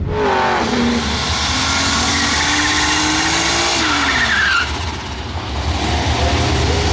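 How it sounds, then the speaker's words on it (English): A car with a spicy tune on a giraffe-style setup does a burnout, its engine revving hard and loud while the tires spin and screech in a sustained roar up close, with the pitch rising and then easing off. "let's get a nice little another burnout here"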